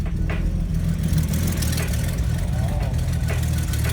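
A car engine idles steadily with a low rumbling hum after a battery change, close by and continuous throughout.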